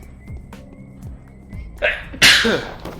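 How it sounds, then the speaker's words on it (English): A sharp, loud sneeze bursts out near the end after a quick inhaling buildup, following quiet shuffling sounds. "Hang on, gonna sneeze."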